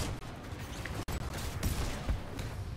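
Dense, continuous gunfire from a Titanfall 2 campaign firefight, a rattling fusillade of shots with mechanical clanks, sustained and fairly loud with a brief gap partway through.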